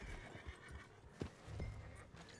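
A horse neighs in the Red Dead Redemption 2 video game, a short, fairly quiet whinny amid soft hoof clip-clops and faint game ambience, with no talking.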